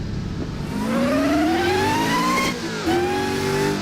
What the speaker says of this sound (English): the car has a very loud whine. The supercharger.